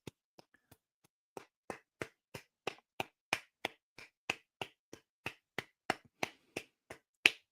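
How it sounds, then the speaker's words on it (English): One person claps slowly and steadily, about twenty crisp, close, isolated hand claps at an even pace, starting faint and tentative and then growing firmer, with no voices in between. "I'll give him a round of applause"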